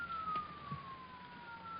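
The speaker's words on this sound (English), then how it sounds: "Those are police cars, Tony, coming here." A police car siren in a radio drama, one steady drawn-out wail slowly falling in pitch, heard faintly at a distance behind a low hiss, with no talking.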